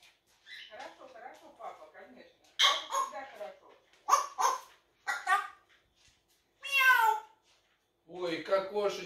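A pet bird imitates a cat's meow in several drawn-out, whining calls between bursts of chattering vocal sounds, with a person speaking gently nearby.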